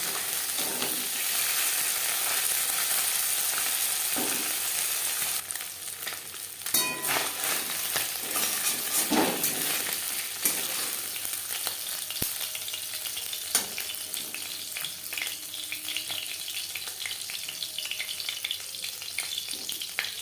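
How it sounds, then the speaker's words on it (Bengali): Small mourola fish frying in hot oil during preparation of a mustard-paste curry, a steady crackling sizzle running throughout with occasional stirring clinks, close and moderately loud with no talk. "প্রথম ব্যাচের মাছ ভাজা হয়ে গেছে"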